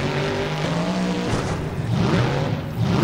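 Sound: monster truck driving in a freestyle run, video game

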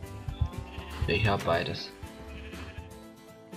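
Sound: sheep bleating in the video game Minecraft

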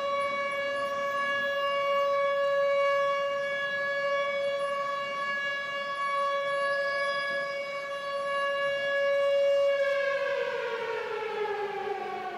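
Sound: siren sound effect played by DJ

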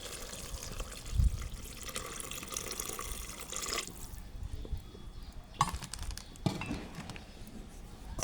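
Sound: water poured into cooking pot

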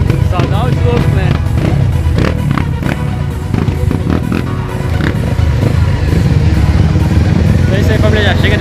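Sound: trail dirt bike motorcycles revving at an off-road event

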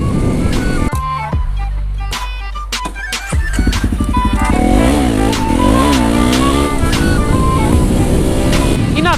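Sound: motorcycle riding to refuel at a gas station

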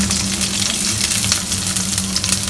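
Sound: garlic and shallots frying in groundnut oil

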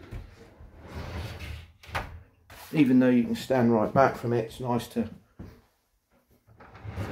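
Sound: oven door sliding away on a hide-and-slide oven, narrowboat

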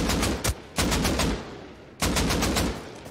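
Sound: AK rifle gunfire in video game Rust

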